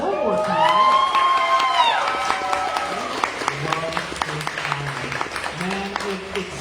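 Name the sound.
audience applause for a first-time reader at an open mic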